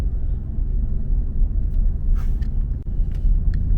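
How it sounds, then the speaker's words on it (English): An American car assembled in Texas rolls through St. Petersburg, Russia, giving a steady low engine and road rumble heard from inside the cabin, with a faint thump near the end and no talking. "I am driving a pure American car made in Texas, or assembled in Texas, in St. Petersburg"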